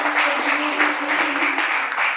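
A crowd at a church general assembly applauds steadily, with sustained clapping at an even level from start to end and no break.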